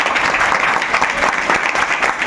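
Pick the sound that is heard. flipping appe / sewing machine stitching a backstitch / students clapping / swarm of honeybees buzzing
students clapping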